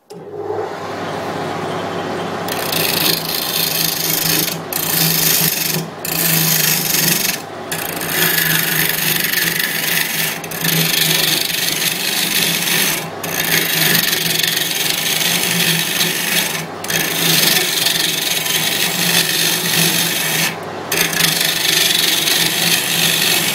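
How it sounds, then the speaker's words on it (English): A bowl gouge cuts the outside of a burr elm bowl spinning on a lathe, a loud, continuous close-up scraping rasp that runs almost unbroken, with a few brief pauses between passes. "I'm going to take my bowl gouge and turn the bowl down to the outside shape that I want it."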